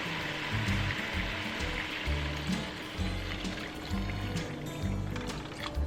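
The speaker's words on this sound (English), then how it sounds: "Add about 2 cups of water." Water is poured into a pot of beef and sautéed vegetables for soup, making a continuous close, gurgling splash with soft bubbling and no talk.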